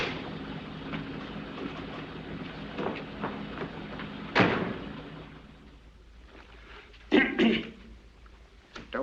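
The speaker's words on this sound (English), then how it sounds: "Don't stand there coughing" Two or three sharp, throaty coughs break through a steady low background rumble, spaced a few seconds apart.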